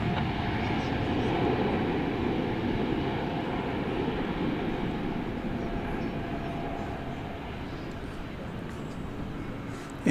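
A Qantas airliner departs DFW bound for Sydney, its steady broadband engine roar filling the scene from start to finish with no break.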